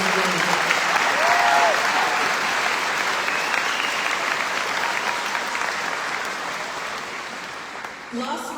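Sustained applause from a commencement audience honoring graduates' families and supporters, loud and steady, fading slightly toward the end, with some voices mixed in.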